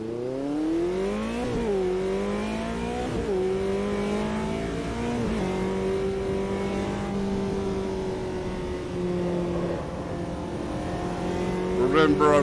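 A McLaren race car driving the Nordschleife in the AMS 2 racing game, its engine revving up and dropping through repeated gear shifts, loud and close for the whole stretch, with a sharp rev rise at the end.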